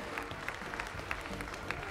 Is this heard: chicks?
no